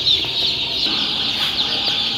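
Chickens at a poultry seller's stall, including broiler, Kazi, Sonali and Tiger breeds, give a run of clucks and squawks close by, steady throughout with no speech.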